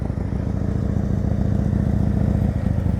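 A motorcycle engine holds a steady, throbbing drone during an advanced slow-speed riding practice, the throttle kept up at a constant load with a slight rhythmic pulse and no voices.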